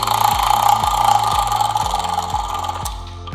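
A Comandante hand coffee grinder's adjustment dial is unscrewed all the way, giving a steady run of evenly spaced mechanical clicks, about three per second, close up with a faint hum underneath and no talking.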